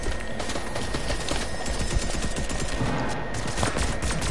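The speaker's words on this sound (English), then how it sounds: "someone has an SMG on me" Rapid SMG bursts from a video game rattle almost continuously, dense and loud with sharp repeated shots layered over each other.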